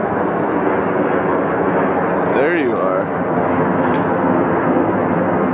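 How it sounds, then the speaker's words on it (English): An airplane passes overhead as a steady, broad roar that swells briefly at its closest point, heard outdoors with a short spoken remark over the engine noise. "Where are you, airplane?"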